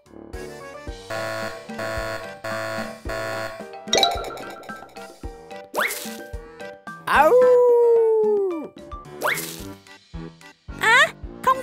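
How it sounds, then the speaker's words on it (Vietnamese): Small cartoon puppy yips and barks come in short bursts, mixed with cartoonish boings, whacks and a drawn-out howling tone. "đây là tiếng kêu của bạn chó con dễ thương"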